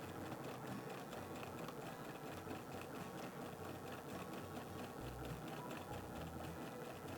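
A home sewing machine stitches in free-motion quilting with a quiet, continuous fast mechanical whir and rapid needle ticking that holds at an even pace throughout.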